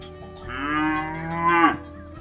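A cow lets out one long, drawn-out moo that rises and wavers before cutting off sharply, close and loud against a quiet background.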